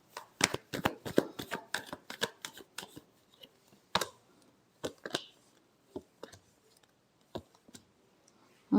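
Tarot cards being shuffled by hand, a quick rapid run of crisp riffling clicks followed by slower, scattered card taps and slides, close and quiet.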